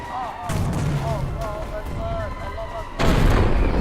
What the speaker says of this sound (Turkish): canıma bomba düştü tabii